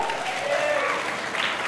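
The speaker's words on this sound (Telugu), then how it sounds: "గట్టిగా చప్పట్లు." Students applaud loudly at a school event, a brief burst of dense clapping with some voices from the crowd mixed in.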